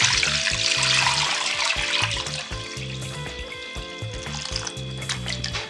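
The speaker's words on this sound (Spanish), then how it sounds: "Ahora voy a agregarle agua." Water pours steadily into a cooking pot holding oxtail, a continuous splashing rush that stays loud and close throughout, with no talking.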